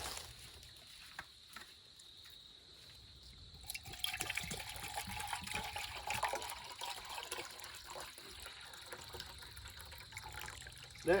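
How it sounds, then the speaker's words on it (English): Drinking water poured into a cup outdoors in the wilderness, a steady close trickle and splash that begins about a third of the way in and keeps filling over a faint background hiss. "It's exactly 3 cups, and so we're just going to pour this full."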